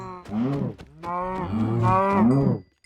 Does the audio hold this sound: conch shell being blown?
no